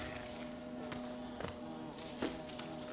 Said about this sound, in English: You hear all the bee noises while the gathering swarm is holding my Geo.